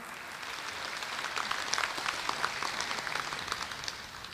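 An audience at a birth centenary function in Jammu gives loud applause for Pandit ji, a steady, dense clapping texture held evenly throughout, somewhat distant, with no talking.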